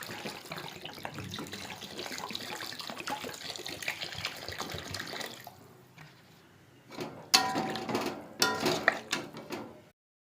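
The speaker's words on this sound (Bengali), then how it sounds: "এবার জল দিয়ে দেবো।" Water is poured into a pan of cooked-down ginger, chili, cumin and coriander spice paste with tomato, sloshing steadily, then breaking into a few louder splashing bursts near the end.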